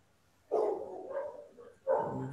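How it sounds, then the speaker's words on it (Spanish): Dogs barking outside, two separate short bursts of yapping about a second apart, fairly close and clear, with no talk over them. "¿se escuchan los ladridos de los perritos que están afuera?"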